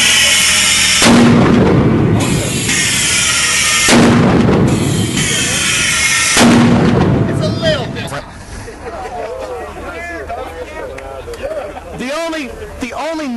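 A stage flame effect unit fires three loud whooshing bursts at regular intervals, each with a brief roaring tail, followed by chattering voices and crowd noise.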